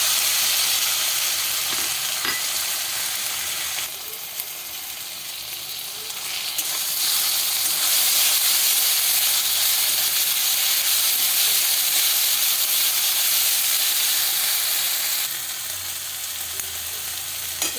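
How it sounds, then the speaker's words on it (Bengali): Onion frying with ginger-garlic paste in a pan, a loud steady sizzle and hiss that swells strongly partway through and stays dense and close throughout, with no talking. "পেঁয়াজটা ভাজা হয়ে গেছে, এবার আদা রসুন বাটাটা আমি দিয়ে দেবো"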